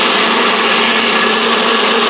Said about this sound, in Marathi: मिक्सरमधून एकदम फाईन असं ते वाटून घ्यायचं आहे